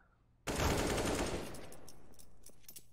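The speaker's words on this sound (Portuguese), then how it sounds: "quantos tiros? O Mops ele teve que corrigir ali o spray dele duas vezes e matou." Rapid automatic gunfire spray in Counter-Strike, a sudden loud burst of continuous shots that starts half a second in, then tapers into scattered echoing impacts and softer trailing shots.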